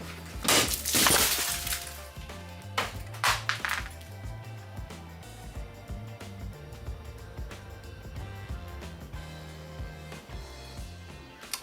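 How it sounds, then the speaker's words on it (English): The glass door of a Creality K1C 3D printer shatters into small pieces, a loud burst of breaking glass up front followed by scattered tinkling and clinking of fragments over a steady background hum. "Well, yeah, I just broke the glass door off of the printer. Small pieces."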